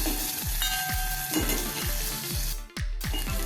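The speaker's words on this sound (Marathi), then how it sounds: "आता हे थोडं आपण फ्राय करून घेऊया" Chopped tomato and green chili fry in a pan with onion, a constant close sizzle punctuated by a regular series of spatula scrapes and stirs, with no speech.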